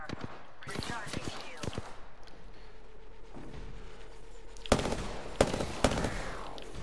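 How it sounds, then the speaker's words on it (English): Gunfire in the Apex Legends battle royale video game, bursts of sharp shots and clattering impacts, loudest near the end, under game voice lines and player chatter. "I'm under fire."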